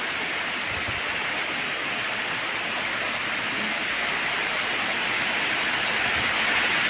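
Steady, dense hiss of falling rain fills the clip evenly from start to finish, with no pauses.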